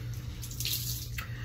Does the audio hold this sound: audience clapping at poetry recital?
no